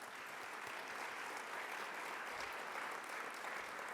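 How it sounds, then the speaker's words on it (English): A reception audience gives a round of applause for sponsors, a steady, even wash of clapping that sounds somewhat distant and faint. "Let's have a round of applause for them."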